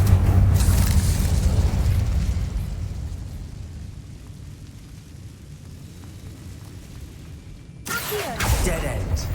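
Incendio fire spell cast in Hogwarts Legacy, a loud booming whoosh of flame that swells at the start and slowly fades, followed by a second burst near the end.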